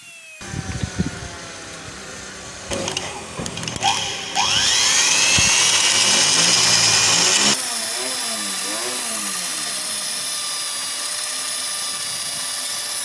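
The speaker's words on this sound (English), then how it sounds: "So now we have finished drilling with a 5mm drilling bit." A power drill with a 5mm bit bores out a broken bolt, first in short stuttering bursts, then a sustained loud whine that shifts pitch as the bit bites into the metal.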